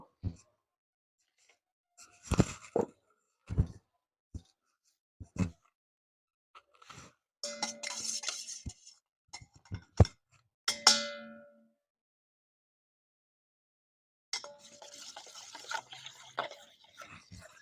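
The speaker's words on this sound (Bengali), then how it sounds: "এই দুধের মধ্যে এই গুঁড়ো দুধটা একটু গুলে নেব" Powdered milk stirred into hot milk in a vessel, scattered spoon clinks and knocks against the sides, with stretches of quiet in between and some light liquid movement.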